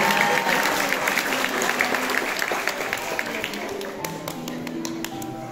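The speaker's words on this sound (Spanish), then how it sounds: "Esos aplausos, que se vean que estamos de fiesta." Audience applause at a waltz celebration, a dense wash of many hands clapping steadily and loudly for the full stretch, easing slightly toward the end, with faint voices mixed into the crowd.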